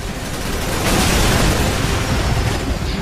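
Heavy, rolling explosions from enemies being blown up in Resident Evil 6 on PS3 merge into a continuous loud roar that swells and then lingers, with no voices.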